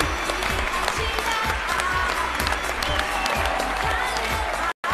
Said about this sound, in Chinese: 掌声有请，有请，有请。